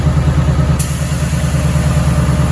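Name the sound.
Ford Mustang 4-cylinder engine running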